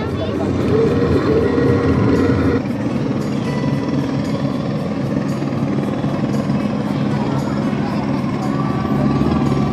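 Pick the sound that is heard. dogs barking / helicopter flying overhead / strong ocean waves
helicopter flying overhead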